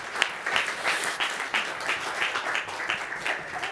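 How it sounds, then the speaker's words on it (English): Conference audience applause after a deep-tech startup pitch, a steady round of many hands clapping with even rhythm at moderate loudness. "Applause."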